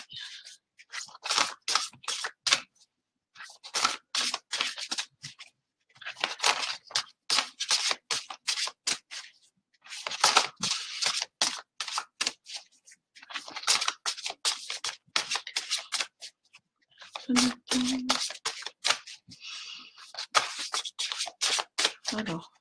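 Cards are shuffled for a card reading in repeated quick riffling bursts, each a rapid flutter of crisp snaps separated by short pauses, close and clear, with a voice speaking briefly.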